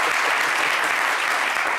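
A short burst of dense, loud applause from the audience, applauding Monsieur Delmas of the group Les Mousseurs, with steady clapping throughout.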